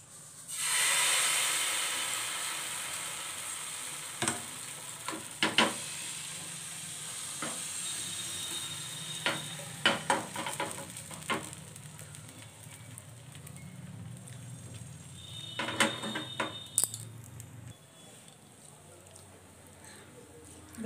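Patishapta pitha batter with a coconut filling frying in a pan, giving a soft steady sizzle and hiss throughout, broken by scattered light clicks and scrapes of a utensil against the pan.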